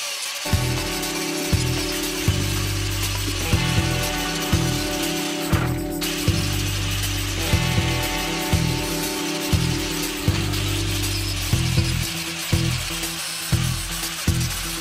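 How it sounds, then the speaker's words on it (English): An angle grinder with a flap disc grinds down welds on a quick-change rear end, giving a continuous harsh, close grinding noise that pulses in a regular rhythm as the disc is worked over the metal. "Now I'm gonna hit it with the flapper disc just to take the rest of the remaining welds down"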